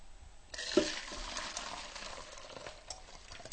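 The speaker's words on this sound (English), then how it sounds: "I'm just going to strain my shrimp stock." Shrimp stock pours through a strainer, a soft liquid splash and trickle with light clinks, close and fairly quiet, without talk.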